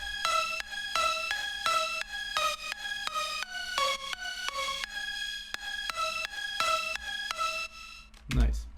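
Synth lead from the Cymatics Titan collection plays a rapid run of bright, harmonically rich staccato notes in a steady rhythm, close and loud, ending with a short low thump.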